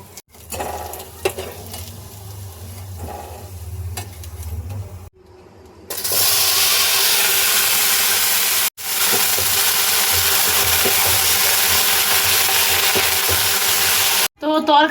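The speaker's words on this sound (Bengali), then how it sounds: "এটাকে তুলে নিয়ে ভেন্ডিটা ভাজতে দিয়ে দেবো" Okra frying in hot oil gives a loud, steady broadband sizzle from about six seconds onward, briefly cut near nine seconds. Quieter kitchen sounds with some talk come before it.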